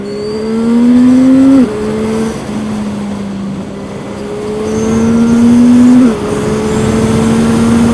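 CFMOTO 675NK motorcycle accelerating hard through the gears, its engine note climbing in pitch with two sharp drops at gear changes; loud, close, continuous roar with wind noise and no talking.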